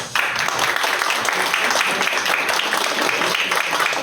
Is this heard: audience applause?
yes